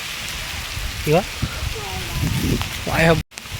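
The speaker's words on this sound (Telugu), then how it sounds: "ఇగో వాన చూడండి ఎట్లా పడుతుంది" Heavy rain hisses steadily as a broad, constant wash while someone speaks briefly over it.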